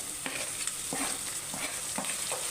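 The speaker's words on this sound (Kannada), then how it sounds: "ಆಲೂಗಡ್ಡೆ ಹಾಕಿದ ಮೇಲೆ ಒಂದು ಎರಡು ನಿಮಿಷ ಫ್ರೈ ಮಾಡಬೇಕಲ್ಲ" Potatoes frying in oil for vegetable pulao, with steady hiss of sizzling and a few soft stirring scrapes repeating roughly every half second, close and continuous with no talk.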